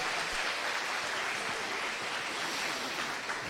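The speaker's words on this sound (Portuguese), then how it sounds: "É a Ele que nós aplaudimos esse tempo" A church congregation at a missionary conference applauds in a steady, even wash of clapping that holds at a moderate level with no talk over it.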